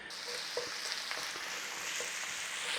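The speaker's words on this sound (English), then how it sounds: "we'll have a little bit of a quick fry on there with those onions" Potatoes and onions frying in a pan for corned beef hash, a continuous soft hiss of sizzling oil with a few faint stirring ticks.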